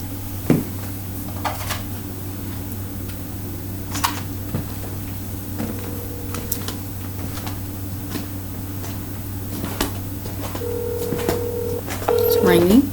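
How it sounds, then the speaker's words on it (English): A constant low hum with scattered clicks and short electronic beeps near the end, like digits being keyed on a phone; a voice is faintly present. "I'm going to try to dial the number one more time."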